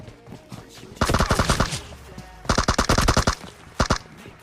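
Automatic gunfire from the PUBG Mobile battle-royale game comes in three sharp, loud bursts of rapid shots, each rattling for about a second with short quiet gaps between them.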